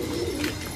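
Wild pigeons perched overhead give a soft, low cooing, brief and steady at moderate distance with no talk.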